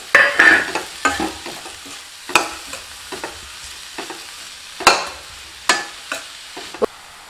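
Chopped onions and spring onion sauté in a pan for sambar, a soft sizzle broken by sharp scrapes and clacks of a stirring spoon at irregular intervals, close and fairly loud, with no talk.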